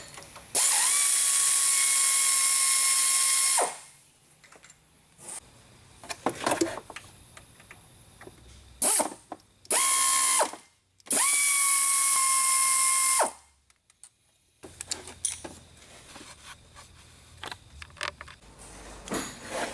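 Ratchet wrench clicking in several bursts while loosening the lower bolt on a Volkswagen Jetta's AC line, with a car on a lift, sharp buzzy ratcheting separated by pauses and handling noises.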